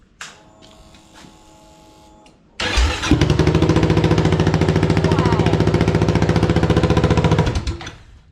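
A 2022 Kawasaki KLR 650 motorcycle idles through an open exhaust dump with no muffler, bursting from quiet into a very loud, harsh, rapid staccato rumble that holds steady for several seconds before cutting off.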